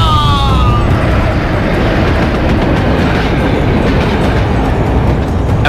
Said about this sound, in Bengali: ঠিক সেই সময় ট্রেনটাও প্রচণ্ড দুলে উঠলো একবার